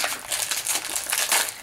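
A Christmas bonbon's crinkly wrapper is torn and crumpled open close up, a continuous loud crackling rustle for under two seconds.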